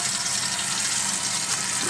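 Water gushes steadily from a tap into a warm jar being filled for pressure canning chicken stock, a continuous bright splashing with no talk.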